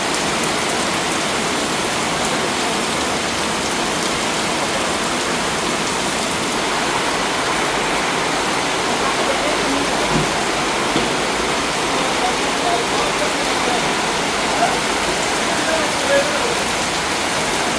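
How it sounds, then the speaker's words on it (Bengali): Rain falls steadily in a continuous, even patter and hiss that stays constant at moderate loudness throughout, with no clear breaks. "বৃষ্টির শব্দ শুনতেও ভালো লাগে, কিন্তু ওই যে কাজের মধ্যে বাধা।"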